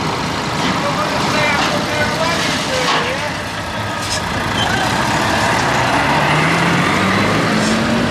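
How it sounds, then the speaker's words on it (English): A big Globetrotter truck passes close by, its loud engine rumble swelling steadily across the whole stretch amid constant roadway noise, with faint talk underneath. "Nice big Globetrotter coming through."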